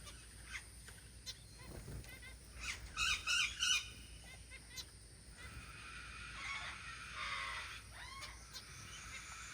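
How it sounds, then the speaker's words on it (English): A pet bird lets out harsh, repeated squawking screams in short bursts, with softer chirps and calls from other birds around it. "That's one of the most annoying sounds any of our birds make by far."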